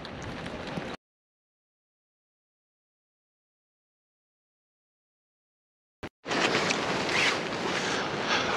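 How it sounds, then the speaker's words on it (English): Wind and heavy rain battering Boscombe pier by the sea at night, a loud rushing roar of gusts and downpour, broken by a long stretch of silence midway. "It's absolutely chucking down now. Wind's picked up"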